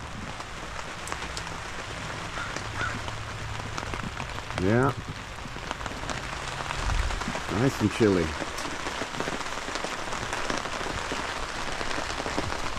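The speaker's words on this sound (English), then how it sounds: "Now it's raining again out there" Steady rain pours down outside on a chilly Washington morning, a dense, even hiss that fills the whole stretch, with a person briefly speaking over it.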